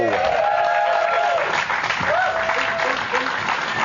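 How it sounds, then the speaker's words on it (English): A studio audience on a Channel 4 Big Brother spin-off show claps and cheers continuously and loudly, with a voice speaking over the applause throughout. "we're also joined by a lovely audience. Yay! Who are clapping themselves"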